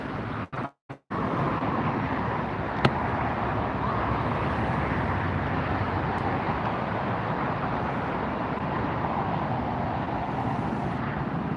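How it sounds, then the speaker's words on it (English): Delta airliner taxiing at Los Angeles International Airport, a steady broadband jet rumble and roar held at a constant level throughout, with a brief dropout near the start and no talking. "We've got an arrival on the far side. And a Delta taxiing near us."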